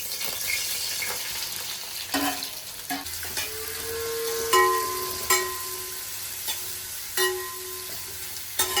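Onions frying in coconut oil with fennel seeds, giving a steady close-up sizzle with occasional sharp clinks and scrapes from stirring.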